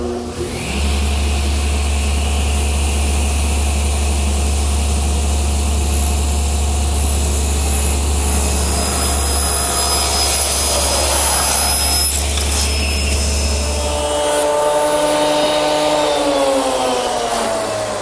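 A table saw whines loudly and steadily over a deep motor hum while cutting a taper in wood, its pitch shifting near the end as the cut finishes.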